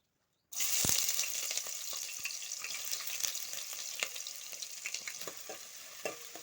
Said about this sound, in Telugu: ఫ్రై అయ్యే వరకు వెయిట్ చేద్దాం లైట్ గోల్డెన్ బ్రౌన్ వచ్చే వరకు ఉంటే చాలండి